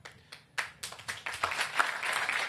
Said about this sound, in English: That's worthy of applause